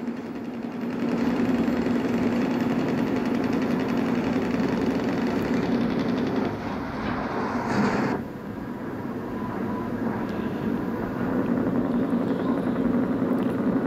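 A loud, steady diesel truck engine rumble idles throughout in the video game Truckers of Europe 3, with a faint rattling texture and one brief dip in the noise midway.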